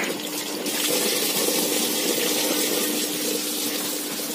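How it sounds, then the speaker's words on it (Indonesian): Water gushing steadily out of a pipe during a harvesting setup, a continuous loud rushing flow with a faint hum underneath. "Itu keluar airnya segitu"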